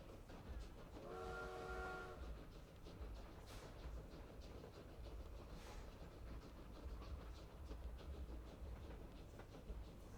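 A train in the video game Victoria 3 sounds a brief horn blast early on, followed by steady clattering wheels and rumbling that continue throughout at moderate loudness.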